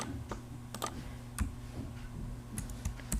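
Someone types on a computer keyboard while editing in Filmora 9, tapping out a short word in a quick, uneven run of close, crisp key clicks over faint background hum.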